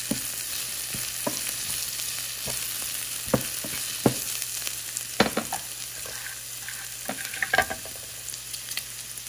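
Shallots, curry leaves and green chili fry in a pan, giving a continuous soft sizzle broken by scattered sharp clicks and taps of stirring.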